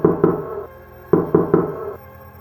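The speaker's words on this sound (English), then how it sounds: "The blows were so heavy, we thought the door would be ripped from its frame and collapse" Heavy blows on a wooden door, two thuds followed after a pause by three more, close and loud, with a dull ringing after each, no voices.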